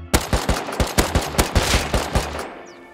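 Gunfire in the video game Rust: a rapid series of about a dozen loud, close shots in quick rhythm, each a sharp crack with a short echo, ending in a brief tail.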